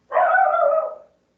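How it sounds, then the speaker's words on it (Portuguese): A single close, loud dog bark, drawn out into a short yelp-like tone that fades within about a second, with no other sound around it. "Desculpa o cachorro."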